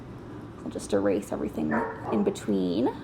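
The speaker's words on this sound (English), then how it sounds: "sorry if you can hear my dog in the background" A dog barks and yips in the background of an indoor room, a few short bursts heard faintly beneath a person talking steadily throughout.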